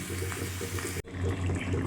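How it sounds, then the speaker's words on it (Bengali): Hot water poured from a nearby kettle or pot into a cooking pot of chicken curry, a steady close splashing rush with a brief break midway before the flow resumes. "তো গরম জল দিয়ে দিয়েছি"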